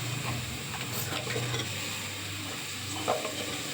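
Potato and carrot pieces stirred in a pan for chapati kurma give a soft, steady scraping with a light sizzle throughout, fairly quiet and close, with no voices.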